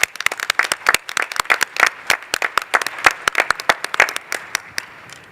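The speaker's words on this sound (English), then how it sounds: "Let's give them applause" Applause in a CITES conference committee session, a fairly small group clapping in crisp, close hand claps with uneven rhythm for about five seconds.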